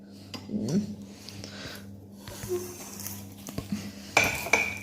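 Plastic and metal parts of an R for Rabbit tricycle knock and clink as it is taken apart by hand, with scattered close taps and rattles and a sharper metallic clatter near the end.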